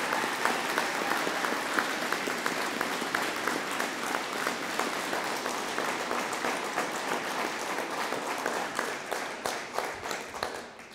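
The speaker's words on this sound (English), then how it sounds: "I'd like for us all to give all the graduates a round of applause and recognition." A large audience at a police academy graduation ceremony breaks into sustained applause, a dense wash of many hands clapping steadily for the full stretch, with a few sharper individual claps standing out near the end.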